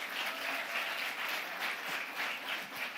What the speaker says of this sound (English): I want you to clap for the CEO of Irembo